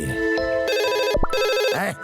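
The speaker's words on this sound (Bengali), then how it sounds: "কেডারে এখন আবার কে ফোন দেয়?" An electronic telephone ringtone in a cartoon, with two bursts of bright, patterned beeping separated by a short pause, loud and close with no talking over it.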